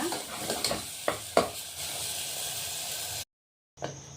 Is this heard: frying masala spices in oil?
yes